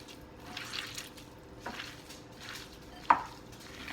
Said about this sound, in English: Now you're gonna use your hands and you're just gonna crumble this as much as you can.